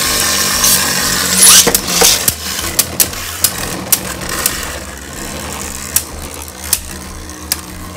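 Beyblade Burst tops, including a Spriggan combo, whir steadily as they spin in a stadium, with a string of sharp, separate clicks where the tops collide. No one talks.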